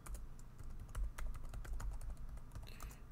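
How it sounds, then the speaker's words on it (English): Computer keyboard typing, close and steady, with irregular quick key clicks over a low background hum and no voices. "let me type from scratch"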